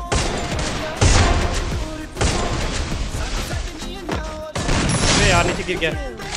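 Gunfire in Garena Free Fire: repeated loud bursts and booming shots in quick succession over a game soundtrack, with someone talking over the action.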